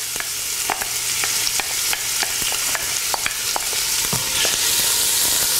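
Onions sautéing in olive oil in a pan, a steady hiss of frying broken by regular light clicks and taps of a utensil stirring, close and continuous with no talking.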